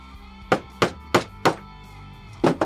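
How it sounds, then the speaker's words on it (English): Hammer blows driving the pins out of a knife handle set over a block, with four sharp, evenly spaced strikes followed by a pause and a final double hit, loud and close with no talk. "Then you can hammer on the pins."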